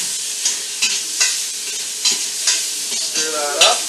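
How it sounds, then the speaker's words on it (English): Beef and ale stew sizzling in a hot pan as it is stirred, with a steady frying hiss broken by several distinct scraping stir strokes at a fairly regular pace, close and clear with no talking. "Stir that up."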